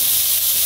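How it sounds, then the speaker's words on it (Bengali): Bottle gourd and chickpea bhaji frying in a pan, giving a steady loud hissing sizzle that holds unbroken and close. "সকালবেলা লাউ ছোলা ভাজি করতেছে"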